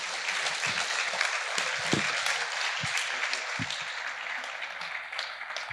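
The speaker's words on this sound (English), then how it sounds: "So please, can we have applause for my friend?" An audience at a fireside chat event with Ferrari's CEO bursts into sustained applause, a dense wash of clapping with a few heavier thumps close by, holding fairly even throughout.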